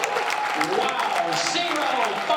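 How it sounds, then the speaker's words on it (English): An auction audience claps steadily for both contenders after a sale at a pie auction, a dense wash of applause with an announcer's voice running over it. "Let's give them a big round of applause too"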